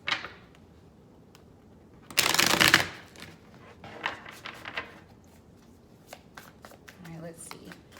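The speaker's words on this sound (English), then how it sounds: "I like to shuffle these face up so they don't bend" Tarot cards being shuffled face up by hand, a short burst of loud riffling followed by softer scattered taps and card handling, close by, with some quiet talk underneath.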